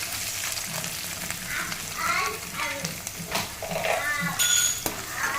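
Soaked chana dal frying in a pan with dried red chillies, a close crackling sizzle mixed with metallic stirring scrapes and clinks, some faint voice underneath.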